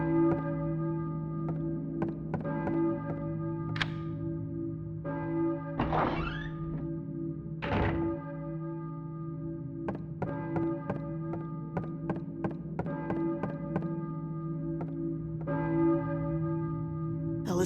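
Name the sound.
bell ringing in video game Silent Hill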